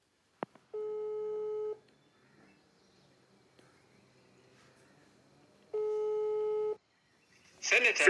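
A telephone call's ringing tone sounds as two clear, steady one-second bursts about four seconds apart over a faint, quiet background, with a brief noisy rustle at the end.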